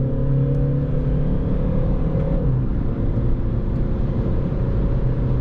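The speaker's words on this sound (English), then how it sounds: "D, full throttle on D, and it downshifted." A VW Polo V 1.6 TDI 90 HP with a 7-speed DSG gearbox pulls hard under full throttle, its engine drone steady and loud, dipping in pitch partway through as the transmission shifts.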